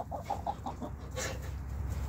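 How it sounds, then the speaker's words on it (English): Chickens cluck in an aviary in a quick run of soft notes over a steady background hum, followed by a brief louder squawk. "they've got plenty of room in here for these chickens"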